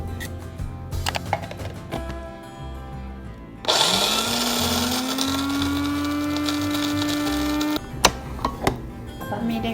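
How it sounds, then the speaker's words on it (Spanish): A kitchen blender grinds oat flakes into flour, starting abruptly partway through with a loud, steady whirring roar that rises in pitch as it settles, runs for several seconds, then cuts off, with clatter and handling noises before and after. "ahora voy a moler las hojuelas"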